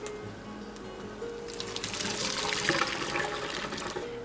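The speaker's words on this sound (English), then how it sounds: "now we're going to drain it in a strainer. You can drain it right in the sink." Boiled dried fruit is tipped into a strainer in a kitchen sink, water splashing and rushing through the metal mesh with a steady gurgling drain that swells after the first second and stays loud and close, with no talking.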